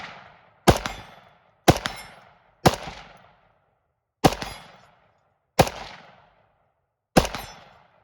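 Six loud, sharp shots from a Cetme Model L rifle chambered in 5.56 NATO, fired at uneven intervals, each crack followed by a short ringing tail, with no talking.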